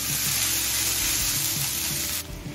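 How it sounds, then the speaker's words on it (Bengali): Onion fries in a pan with a loud, continuous sizzle and hiss, close up and steady, with faint clinks of stirring underneath before the sizzle drops abruptly near the end. "এবার পেঁয়াজটা হালকা লাল করে ভেজে নেব।"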